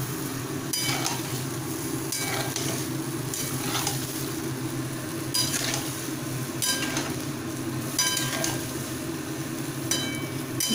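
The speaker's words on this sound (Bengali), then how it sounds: "ঝোলটা কিন্তু ফুটে গেছে" Fish curry gravy with cauliflower and potato bubbles on the stove with a steady sizzle, broken by several short scraping stirs of a utensil against the pot.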